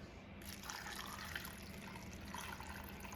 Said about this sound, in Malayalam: ഞാൻ ഇതിനകത്തോട്ട് ഒരു കപ്പ് വെള്ളം ഇപ്പോൾ ചേർത്ത് കൊടുത്തിട്ടുണ്ട്.